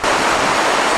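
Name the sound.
powerful 56-meter high waterfall cascading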